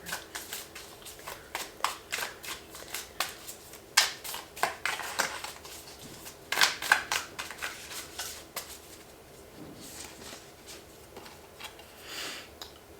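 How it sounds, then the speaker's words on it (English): Tarot cards being shuffled by hand, a run of soft papery riffles and flicks in irregular bursts, close and fairly quiet, with no voices. "Just shuffle up a little bit."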